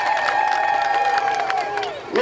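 A crowd at a public address claps and cheers for Dr. Samia Suluhu Hassan. Bright, sustained cheering and whistle-like tones sit over the applause, then taper off near the end.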